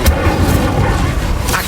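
An Incendio fire spell cast in Hogwarts Legacy on PS5: two short whooshing bursts of flame, one at the start and one near the end, over a continuous rumbling game soundscape.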